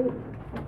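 Pigeons coo softly, a low, muffled burbling call from nearby birds, faint and brief with no voices.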